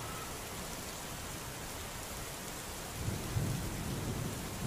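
Heavy rain pours steadily in a thunderstorm, a dense, even hiss of water, with low rumbling thunder rolling in strongly over the last couple of seconds.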